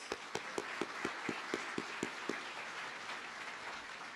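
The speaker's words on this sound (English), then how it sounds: "Give him a round of applause." An audience at a graduation ceremony claps, with a handful of distinct, evenly spaced claps over a soft, fairly distant wash of applause that thins toward the end.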